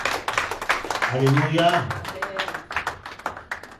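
A church congregation claps in acclamation of Jesus, a run of quick hand claps mixed with a sung or called-out praise voice.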